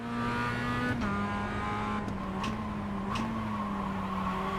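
Mazda MX-5 race cars lapping a slippery track at Ledenon, with a steady loud engine drone under changing revs and a brief shift or tyre-scrub change near one second, heard close from inside the car.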